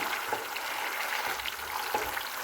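Tapioca biryani is stirred into a gravy in a pan, giving a soft, continuous sizzle with faint scraping and mixing sounds, quiet and close.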